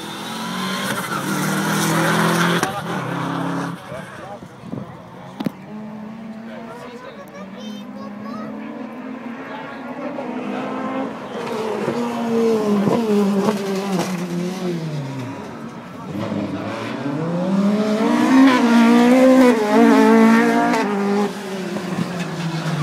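Renault V6 rally car racing at the Prom Rally in New Brighton: an engine revving hard with rising and falling pitch sweeps as it drives past, under a commentator talking over a loudspeaker.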